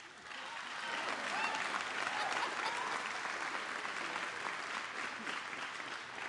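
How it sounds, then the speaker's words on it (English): A large audience applauds steadily and loudly throughout at a presidential speech on the Bipartisan Infrastructure Law inside GM's Factory Zero electric-vehicle plant, with dense clapping that holds without pause. "That's an applause."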